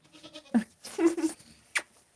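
A baby goat on a homestead bleats several times in short, close, fairly loud cries with brief gaps between them, then a sharp higher call near the end.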